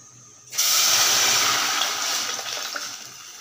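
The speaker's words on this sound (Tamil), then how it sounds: "இதெல்லாம் அந்த தண்ணி எடுத்து ஊற்றிடலாம்." Water is poured into a hot cooking pot during tempering. A sudden loud hissing rush begins after half a second and continues steadily, easing slightly as it goes on.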